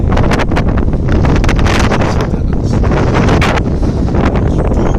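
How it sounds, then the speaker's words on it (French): Strong wind at the Arras Christmas market in 2019 buffets the microphone in a loud, continuous rumbling roar with gusty crackles, unbroken from start to finish. "Il y a un peu de vent"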